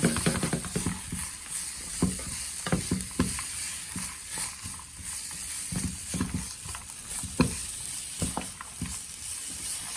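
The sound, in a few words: cabbage and vegetables being mixed and cooked in a pan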